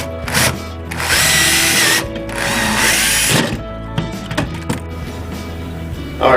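Power drill driving a long screw through a shelf bracket into a wall stud: close, loud whirring bursts that rise and fall as the trigger is squeezed, with short pauses and clicks between runs.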